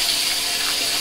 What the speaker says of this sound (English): Put some cold water on it.